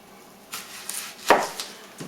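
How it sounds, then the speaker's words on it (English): Knife slicing through an onion on a cutting board, a few close chops with one firm, prominent cut in the middle. "with the onion, I will just typically cut the bottom of the onion on both sides"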